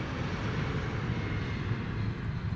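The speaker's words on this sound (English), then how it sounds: "you heard the plane go past and the vehicle has been dropped" A video game airplane flies past during a vehicle paradrop, heard as a steady, loud, broad engine roar that holds constant for the whole stretch with no voices.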